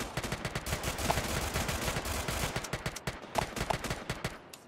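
Rapid automatic gunfire from a squad raiding video game bursts loud and dense, with near-continuous volleys and a few separate sharp shots.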